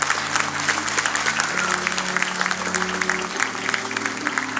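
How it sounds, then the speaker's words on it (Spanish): A church congregation applauds during a Spanish-language sermon, a dense, sustained clapping that stays loud and even throughout, with faint tones underneath. "Deme un aplauso al Señor si quiere."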